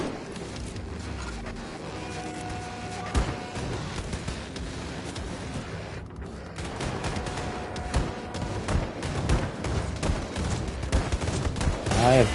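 Gunfire in Wolfenstein II: The New Colossus comes as rapid bursts of shots and impacts, near and loud, with busy game sound effects between volleys and heavier firing toward the end.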